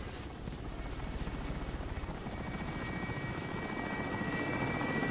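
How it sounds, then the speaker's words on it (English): Helicopter in Call of Duty on PS4 arriving with a steady, loud rotor chop and engine drone that holds throughout, rising slightly toward the end with no talk over it. "I just can't wait until the helicopter gets here"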